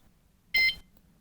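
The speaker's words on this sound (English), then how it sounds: "It beeps and now I wait for a second beep." A motorbike alarm on a Shineray Cub 50 gives one short, clear electronic beep as it arms, a single brief tone in an otherwise quiet setting.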